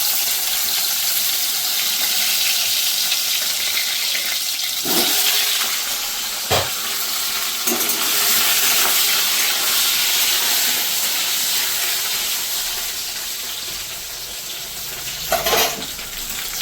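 Cumin seeds crackle in hot oil left from frying fish, a loud, steady sizzling hiss with a few sharp pops and utensil knocks, with no voices.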